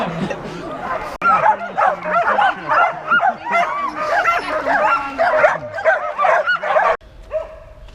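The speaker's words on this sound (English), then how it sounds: "It's absolutely carnage with dogs, isn't it?" Several dogs bark, yip and whimper excitedly at close range, almost continuously for several seconds, loud and busy, with people talking underneath and a sudden cut near the end.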